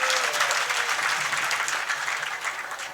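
Dense audience applause fills a religious gathering celebrating a Jain Tirthankar's kalyanak festival, loud and continuous clapping that slowly tapers off over a few seconds.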